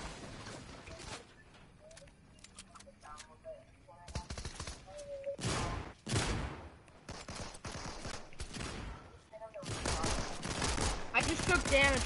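Bursts of rapid SMG fire in a shooter video game, several clipped volleys spread across the stretch with pauses between, mixed with a person talking and other game noises.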